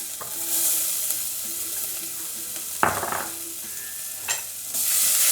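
Ginger stirred in a sizzling pan of coconut vegetable curry, a steady close frying hiss with a few scraping strokes of the spoon and no talk.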